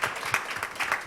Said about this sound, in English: If you could all join me in a final round of applause for Samia Altaf.